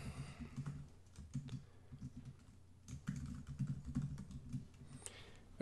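Soft, close keystrokes on a computer keyboard tap out a password in quick irregular bursts with brief pauses, quiet and alone.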